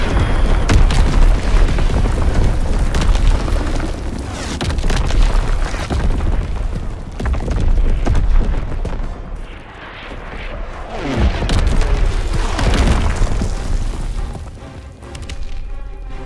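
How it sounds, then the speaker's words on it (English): Enemy bombs burst in a Call of Duty WWII team deathmatch on the Valkyrie map, heavy booming blasts rolling one after another with rumbling tails and debris crackle, loud and close, easing briefly in the middle before more detonations. "Enemy bomb incoming. Get to cover."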